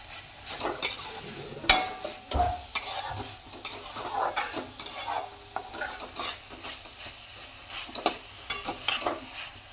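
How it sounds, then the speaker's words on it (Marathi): Dried shrimp kharda fries in a little oil in a pan, a soft sizzle under repeated scraping stirs and occasional clanks of the spoon against the pan, close and moderately loud, with no talking. "एकदम थोडंसं तेल घालून त्याला परत आपण फ्राय करून घेणार आहे"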